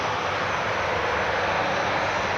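Jetstar airliner engines running during pushback at Christchurch Airport, a steady broadband roar that holds constant and fairly loud throughout, with no voices.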